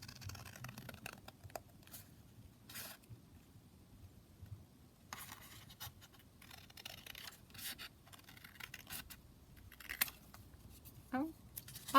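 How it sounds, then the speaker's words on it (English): Scissors cutting paper for a junk journal, quiet intermittent snips and rustling at close range, in short bursts separated by near silence. "just going to cut that down"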